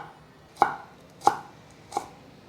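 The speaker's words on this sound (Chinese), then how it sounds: "芹菜切到上面的时候，因为比较小了，所以改用斜刀的方式切，它就会变得比较宽。" Celery sliced diagonally with a kitchen knife, three crisp chops striking the cutting board at an even, unhurried pace, close and clear against a quiet background with no voices.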